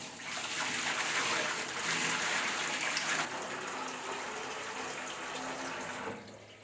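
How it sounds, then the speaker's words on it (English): Water poured steadily off settled stoneware clay reclaim, a continuous splashing gush that runs for several seconds, surges, then eases and tapers off at the end. "I then carefully pour away the water, trying my very best not to disturb the settled clay in the bottom."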